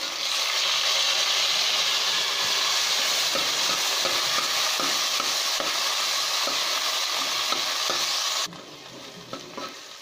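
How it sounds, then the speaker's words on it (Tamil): Onion, garlic, tomato and green chili sauté in a pan for a Kerala coconut-milk fish curry, a loud steady sizzle with stirring scrapes that drops away sharply near the end, no voices. "இப்போ நாம் இந்த வெங்காயம் பூண்டு தக்காளி பச்சை மிளகாய் எல்லாம் நல்லா வணங்கிருச்சு"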